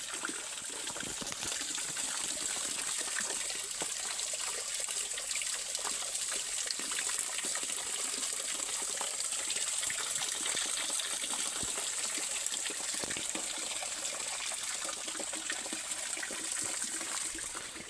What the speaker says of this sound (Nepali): हाम्रो गाउँको धारा चाहिँ यो हो